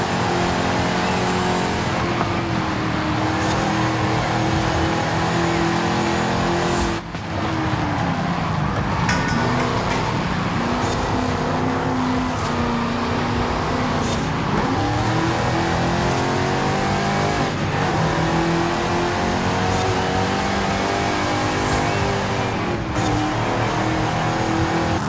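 A 1967 Shelby GT500 with a 7-litre V8 and a manual clutch gearbox in Forza Horizon 5 roars loudly and steadily, its revs climbing and dropping through several gear changes.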